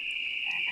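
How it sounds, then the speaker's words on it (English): Budweiser frogs croaking as a stream redemption sound alert, one short, loud, steady croak under a second long. "I thank you for redeeming the Budweiser frogs."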